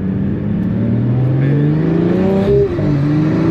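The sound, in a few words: turbo car engine revving in a video game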